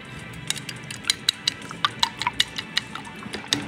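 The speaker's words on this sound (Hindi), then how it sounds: "इसको लगातार अच्छे से फैटें जब तक ये पेस्ट अच्छे दूसरे में सब सामान मिक्स ना हो जाए" A homemade hair-mask paste being whisked or stirred in a small bowl, giving a quick run of light clinking taps at an uneven rhythm, close and fairly clear, with no talking.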